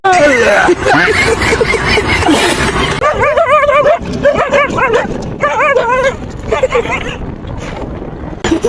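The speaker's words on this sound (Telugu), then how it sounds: "కుక్కలు అయితే వెనకాలైతే వచ్చేసాయి" Several dogs bark at night, loud and close, in repeated bursts of barks with some yips and whimpers.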